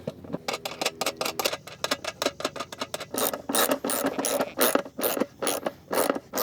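Bolts and nuts being tightened onto the cradle of a K-line irrigation pod, heard as rapid, uneven ratcheting clicks in close bursts with short pauses between them.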